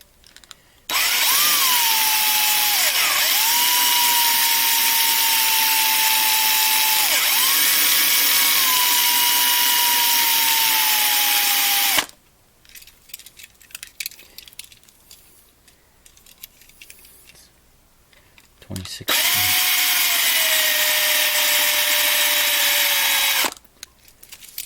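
A DeWalt 36-volt cordless drill bores out a rivet on a 1/64 NASCAR diecast car, two long loud whining bursts with the motor pitch dipping under load, separated by quieter handling clatter.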